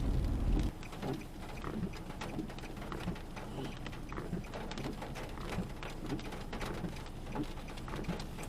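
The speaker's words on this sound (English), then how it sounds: "For it to be fucking raining." Rain falling on a car being driven on New England roads, a steady dense patter with road rumble throughout, moderately loud and without speech.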